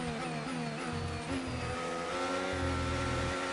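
Charles Leclerc's Formula 1 car in the F1 25 racing game closes in through the slipstream, its engine a loud, sustained high-pitched whine with shifting tones and a steady drone throughout.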